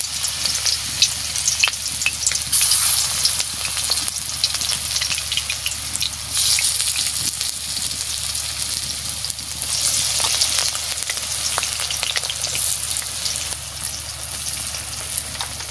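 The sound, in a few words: flower fritters frying in hot oil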